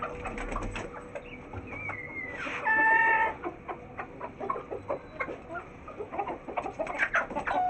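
Loose farmyard hens cluck and call close by in repeated short bursts, with one louder drawn-out squawk partway through and steady clucking continuing around it.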